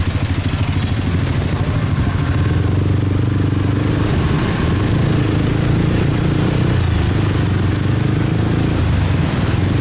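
A motorbike rides through busy Saigon streets, its engine buzzing loud and close with steady revving and road clatter over the full length, and no speech heard.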